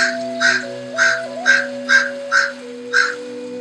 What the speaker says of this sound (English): Our neighborhood crows are joining in.